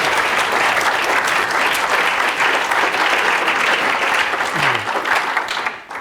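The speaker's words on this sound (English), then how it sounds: "A round of applause for both," An audience applauds two speakers before a talk on the measurement problem, a full, sustained crowd clapping loud and even for about six seconds before tapering off at the end.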